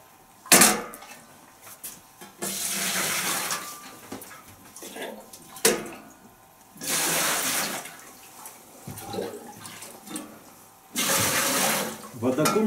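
Clean water poured in a large batch for a honey and flour bread starter. Loud rushing bursts of pouring and filling alternate with quieter gaps. In those pauses people talk and vessels clink.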